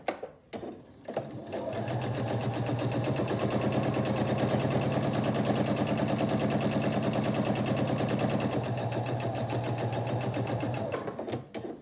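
A sewing machine stitches a basket lining in a fast, steady, close run of rapid needle strokes, starting after a brief pause and stopping near the end.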